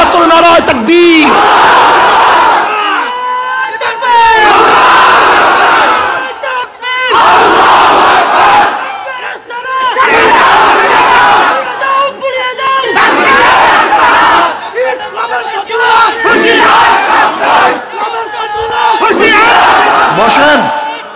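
A large crowd at a Bengali religious sermon gathering roars Allahu Akbar in answer to takbir calls, loud mass chants surging again and again in waves with short pauses between.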